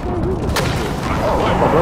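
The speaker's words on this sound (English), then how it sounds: "Be advised, friendly precision airstrike inbound." A precision airstrike in a Call of Duty game lands with a burst of gunfire-like blasts and booms, dense and close, while players talk over the action.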